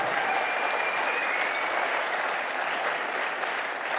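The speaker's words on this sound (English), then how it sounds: "So big round of applause for Thimi Christiaens." Steady crowd applause in a squash stadium for a player after a match, dense and even throughout, moderately distant with no talk over it.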